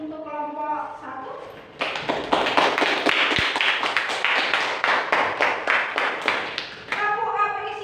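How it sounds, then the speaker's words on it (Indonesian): Students in a classroom clap together for a student group during a civics lesson, a dense burst of rhythmic clapping for about five seconds between a teacher's speech before and after. "Kita beri tepuk tangan untuk kelompok 1."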